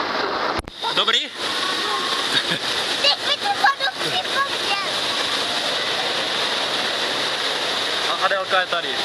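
Water rushes and splashes steadily at the end of an aquapark water slide in Olomouc, a loud, continuous spray with voices talking and calling over it.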